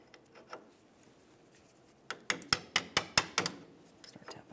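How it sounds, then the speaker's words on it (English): Rapid, rhythmic scraping strokes of a wire brush on metal around the front upper ball joint of a 2002-2007 Chevrolet Trailblazer, about seven sharp rasps in a row after some quieter handling noise. "Just gonna use a wire brush, clean up the area a little."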